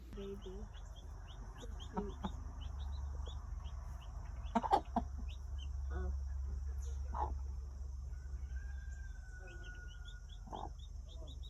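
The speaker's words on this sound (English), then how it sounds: "she is a broody hen" A broody hen clucks repeatedly in short, soft bursts over a steady low farmyard hum, with occasional louder squawks and bird chirps in the background.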